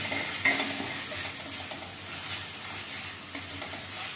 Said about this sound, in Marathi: आणि आलं लसूणची पेस्टचा कच्चेपणा निघेपर्यंत आपण तिला शिजून घेऊया